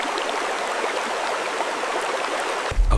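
Water flowing in a stream, a continuous close babbling rush with light trickles over it, steady and fairly loud, ending in a sudden low thump.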